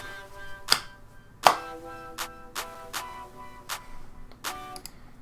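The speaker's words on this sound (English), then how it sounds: "And then the claps also come in" Clap samples layered into a future bass song, a handful of sharp bright claps spaced unevenly over a soft synth pad.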